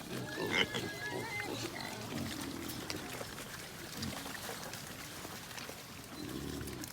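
A pen of pigs feeds eagerly, grunting and squealing close by amid busy munching and shuffling, with no talk.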